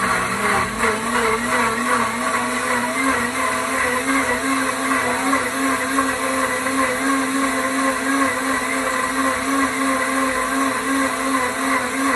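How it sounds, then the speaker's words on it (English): A Pampered Chef deluxe cooking blender purees roasted red peppers, a loud, steady motor whir with a constant pitch running unbroken for about twelve seconds, close by and alone. "This is our deluxe cooking blender. I'm not going to be cooking, but I'm going to be using it to puree these."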